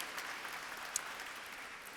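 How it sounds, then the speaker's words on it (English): Applause from the audience at a bar association's annual dinner, a steady wash of clapping hands that holds evenly for the whole moment with no talk over it. "Round of applause for Ken Lee."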